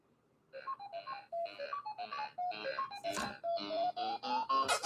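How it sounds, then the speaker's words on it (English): Incoming call on a telephone, a melodic electronic ringtone playing a rapid series of bright chirping note patterns, fairly close and clear with short gaps between phrases. "I got a phone call."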